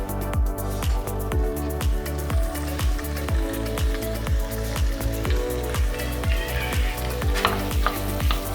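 Meat sizzles loudly in hot melted butter in a pan, a dense crackling fry with steady popping throughout and no talk.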